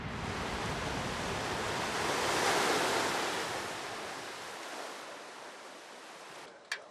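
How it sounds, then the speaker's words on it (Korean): Rough ocean surf off an island where the sea meets the Indian Ocean roars as a loud, continuous wash that swells and slowly eases, with wind noise and a small knock at the end. "마을 앞바다의 파도가 심해서인데요"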